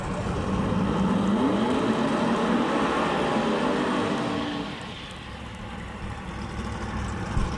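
A drag race car accelerates down the strip at the Shakedown Nationals, a sustained loud engine roar that holds steady, then drops off and fades into distant track noise.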